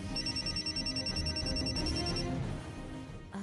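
A telephone rings for an incoming call in a TV-serial scene, a rapid repeating electronic bell pattern that sounds clearly for about two seconds and then stops.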